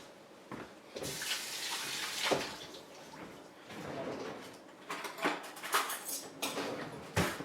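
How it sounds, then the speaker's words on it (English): Water from a running kitchen tap splashes and gurgles as hands are washed beneath it, with uneven bursts as the hands move through the stream, fairly close and with no talking. "Wash my hands."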